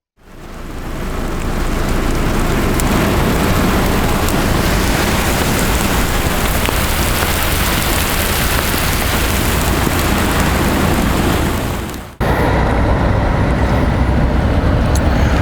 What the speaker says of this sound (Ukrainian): до половини дня нас застав дощ